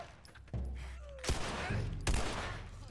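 Video-game gunfire rings out in a few sharp, loud bursts spaced about a second apart, each followed by a short decay, over a low rumbling background.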